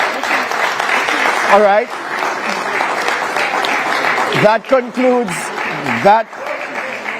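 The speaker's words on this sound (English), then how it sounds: "You can applaud." Audience applause at the close of a televised 2025 Jamaican election economy debate between JLP and PNP teams, a steady broadband clapping wash filling the clip while a host speaks over it.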